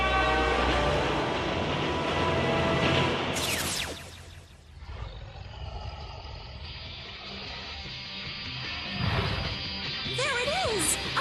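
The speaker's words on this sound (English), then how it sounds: "Yeah! A train! Run!" A cartoon train rushes by loudly with rumbling rail noise, a horn-like blast, and a whooshing pass that fades out, while characters shout and talk over it.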